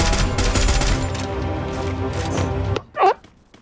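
Rapid bursts of cover-fire gunshots in a battle royale video game, loud and dense for nearly three seconds, then a brief sharp separate sound after a short gap.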